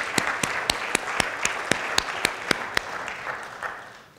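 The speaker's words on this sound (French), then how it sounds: "on peut applaudir Jean parce que c'est lui qui a..." Audience applause at a lecture on meteorites and the formation of the solar system. Dense steady clapping fills the room for about three seconds, with a few sharper claps standing out, then thins and fades toward the end.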